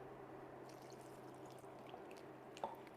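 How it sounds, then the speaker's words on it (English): Water is poured into a pot of chicken laksa, a quiet, steady trickle and splash under low room noise, with a slightly brighter splash near the end. "Now let's put in the water."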